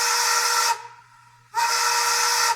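A Bachmann On30 Shay model locomotive's sound decoder sounds two loud, hissing steam whistle blasts, separated by a short gap of fainter hiss.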